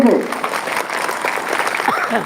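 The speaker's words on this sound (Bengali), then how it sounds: "সবাই হাততালি" Crowd applause at a school assembly celebrating a winter cricket cup award, steady clapping from many hands that fills the whole stretch, with voices mixed in underneath.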